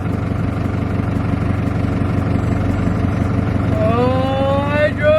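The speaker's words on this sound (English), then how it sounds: "Oh, I drove the tractor!" A New Holland tractor's diesel engine idles in a steady low chug throughout, while a rising whistling or squealing tone joins near the end over the running motor.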